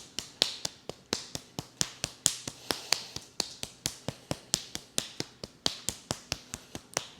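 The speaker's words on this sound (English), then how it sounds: "we're just going to tap the backs of the hands" Fingertips tap the backs of the hands during a Ba Duan Jin qigong exercise, producing a quick, even series of sharp, light pats, about three or four per second, close and clear with no talking.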